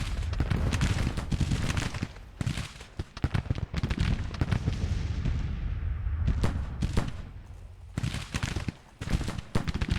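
Dense musket volleys and booming artillery from a Civil War battle in Grand Tactician, cracking in rapid, overlapping bursts that stay loud throughout with only brief gaps.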